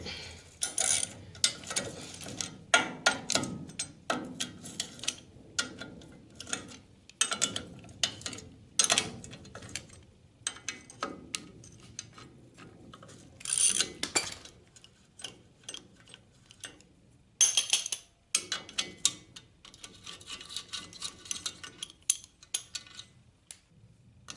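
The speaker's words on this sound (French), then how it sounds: "J'enlève les 6 boulons." Bolts on the front axle of a Citroën Traction are worked loose one after another, giving faint, intermittent metallic ratcheting clicks and taps in bursts with quiet gaps between, close by and without speech.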